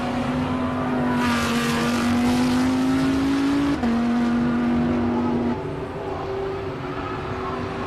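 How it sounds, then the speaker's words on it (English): Lamborghini Huracan race car, Super Trofeo style, at a hillclimb, its engine note loud and close with steady tonal harmonics rising through the gears, one sharp upshift mid-pass, then easing as it moves on. "Let's just listen to this Lamborghini."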